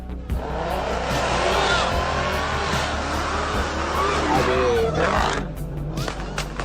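An SRT Jeep does a burnout on a neighborhood street at night, its engine roaring loudly under rising and wavering tire squeal, with a fainter, more distant tail at the end.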